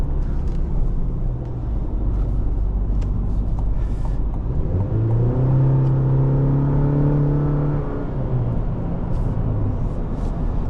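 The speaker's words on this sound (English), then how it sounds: "You can actually hear the turbo spool up." A 2023 GMC Canyon AT4X's turbo four-cylinder engine drones steadily, then a rising whine builds and holds as the turbo spools up, fading back toward the end; no voices.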